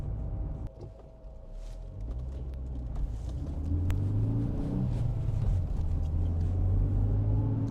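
Volvo 740 car engine running, a low steady rumble that grows slightly louder and deeper partway through as the motor is revved, heard close with no talking.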